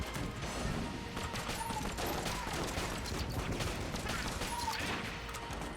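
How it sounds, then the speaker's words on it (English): Rapid energy-weapon fire from a Hyper Light Blaster loaded with Helix Bullets in the Enter the Gungeon video game, a dense unbroken stream of shots layered with game effects, steady and loud throughout. "Hyper Light Blaster, Helix Bullets. Now that's a combination."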